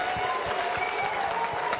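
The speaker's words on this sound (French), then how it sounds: "On va l'applaudir très fort encore, s'il vous plaît." A television studio audience breaks into steady, loud applause on a French-language talk show, claps rippling densely together for a couple of seconds with no voices on top.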